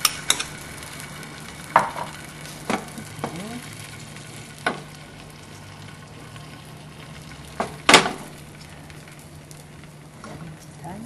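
Beaten egg for a jidan egg sheet fries in a barely oiled hot pan, giving a soft steady sizzle with a few sharp clicks and scrapes of utensils against the pan, and no talking.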